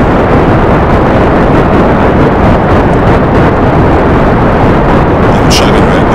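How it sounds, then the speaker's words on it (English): Rocket boosters firing in Kerbal Space Program produce a loud, dense, continuous roar with a rumbling low end that holds steady throughout. "And then we're going to activate the boosters."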